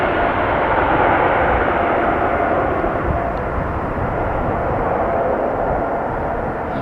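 Vueling airliner engines roar loud and steady during departure at Amsterdam Schiphol, a broad continuous rumble with a smooth whine that holds unbroken throughout.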